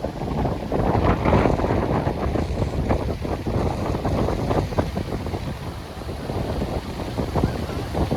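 Strong wind buffeting the microphone at a hillside viewpoint above a waterfall, a continuous loud roaring rumble with gusty surges throughout.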